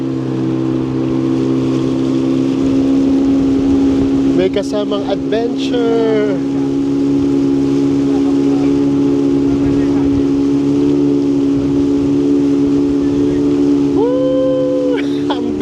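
Motorboat cruising on a river in Fiji, its engine a steady loud drone throughout, with people talking and calling out over it.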